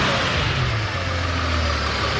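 Twin-turbo Pagani engine fitted in a Mercedes CLS, idling with a deep, steady low rumble and a broad hissing turbo whoosh above it, close and continuous with no talk.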